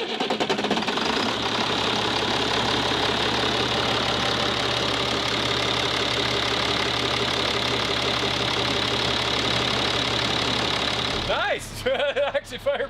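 A CAT 3126 7.2-litre diesel engine idles steadily with a loud, even mechanical clatter and rumble. The idle continues for a long stretch before it is broken by brief clicks and handling noises near the end.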